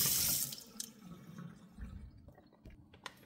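Tap water runs into a sink while lemons are rinsed, a steady close splash with brief drips and small shifts as the fruit is handled under the stream.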